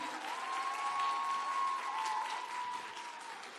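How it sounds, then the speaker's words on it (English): Steady applause from a crowd at a science buskers festival closing ceremony, sustained clapping at an even level throughout with a faint tone running beneath it. "A huge round of applause for the group."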